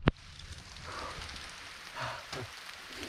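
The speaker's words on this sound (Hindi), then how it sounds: "ओले पड़ रहे बहुत गलत, आवाज़ आ रही होगी" Hailstones falling on and around a rock overhang shelter on a mountain trek, heard as a steady soft patter with a few sharper impacts, continuous and moderately near.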